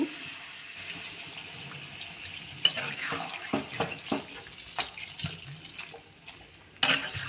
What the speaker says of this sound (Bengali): তো এই পর্যায়ে আমি এখানে জল দিয়ে দেব।